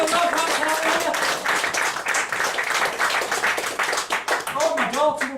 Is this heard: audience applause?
yes